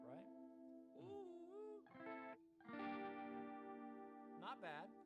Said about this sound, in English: Here's your chorus, just your plain chorus.